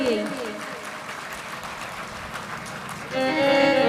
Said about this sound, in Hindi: एक बार जोरदार तालियां हो जाए आपको अपने लिए।